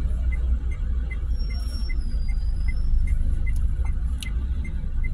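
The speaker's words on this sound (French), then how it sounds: "Il est énorme ce bus." A large bus passes along a street: a steady, deep engine rumble holds throughout, with a thin high squeal drawn out through the middle.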